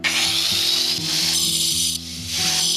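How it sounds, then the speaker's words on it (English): A small grinder cuts grey concrete block with a loud, continuous harsh grinding whine, its pitch dipping and surging as the blade bites, close and steady throughout. "we finish off the block with our small grinder"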